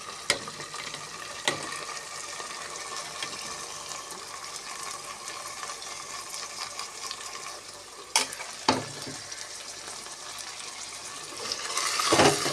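Chopped tomatoes stirred into a frying biryani masala with mint and coriander in a pan: steady, close sizzling and frying with occasional scraping stir strokes and wet clatter, no talking.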